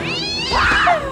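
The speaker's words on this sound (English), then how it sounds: "No, the cat!" A cat in Scary Movie 2 lets out a single loud, drawn-out meow that rises and then bends down into a yowl, close and clear.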